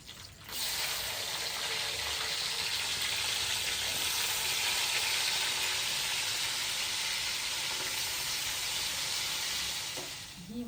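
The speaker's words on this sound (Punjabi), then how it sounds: "ਇਹਦੇ ਵਿੱਚ ਹੁਣ ਪਾਵਾਂਗੀ ਪਿਆਜ਼" Onions sizzle and fry in a pot, a dense steady hiss that starts abruptly and holds loud and close for about ten seconds before easing off slightly at the end.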